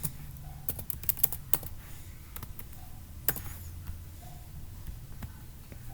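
Fast, irregular clicking of computer keyboard keys while code is typed, with short bursts and brief pauses, quiet and close, and no talking over it.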